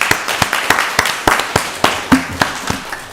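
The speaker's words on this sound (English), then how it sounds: "One more time, give another round of applause." A round of applause at a county board of commissioners meeting, sparse, separate claps at an uneven beat, close and fairly loud, like only a few people clapping.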